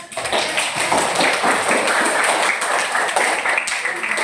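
A room full of people clapping, dense and sustained applause at moderate volume throughout.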